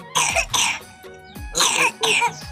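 A child with a cold and fever coughing, four harsh, close bursts in two pairs with brief pauses between them, loud and alone.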